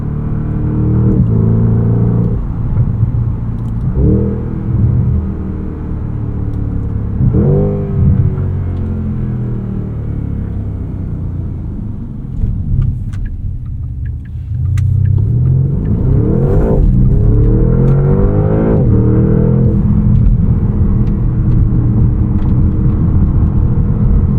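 A 2025 Porsche Panamera GTS engine drones loudly from inside the cabin while driving, rising and dropping through repeated revs and gear changes over steady road rumble.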